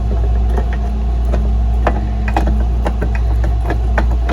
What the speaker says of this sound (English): Then the whole section of gears just slips right in.